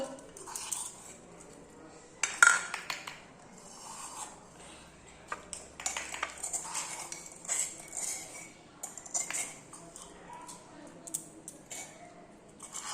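Small toy pots and plates clink and scrape as pretend food is served during a children's cooking play session; the sounds are quiet, scattered metallic taps and rubs.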